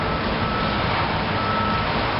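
Electric forklift reversing alarm beeping steadily and loudly throughout, with a continuous broadband hum from the forklift underneath and no talk.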